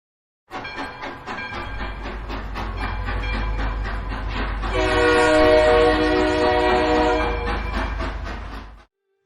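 A train rumbles past with a heavy low drone and rhythmic clatter while its horn sounds loudly and steadily for most of the passage before cutting off abruptly.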